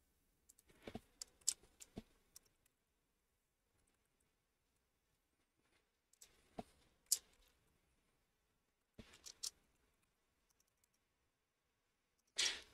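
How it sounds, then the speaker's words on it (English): Typing on a computer keyboard comes in short clusters of quiet, crisp key clicks separated by long silent pauses. "I'm having a hard time typing."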